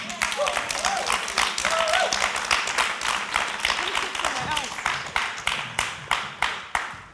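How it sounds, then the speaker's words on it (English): A conference audience at a culture event claps in steady applause that rings out for several seconds, close and fairly loud, with a voice speaking over part of it. "And you can applaud again."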